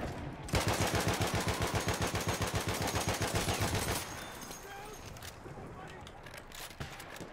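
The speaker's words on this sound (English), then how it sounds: "Machine gun. One of theirs." Enemy machine gun fire in the World War I shooter Battlefield 1 rips out as one loud, rapid, evenly pulsed burst lasting several seconds, then drops to quieter scattered shots and distant battle noise.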